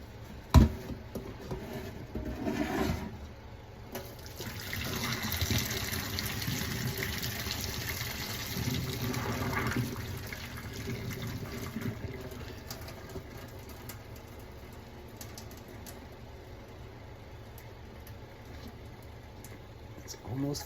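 Fresh pappardelle drained from its cooking water, a steady gushing pour of water that rises after a sharp clunk and then slowly tapers off, with faint background noise throughout.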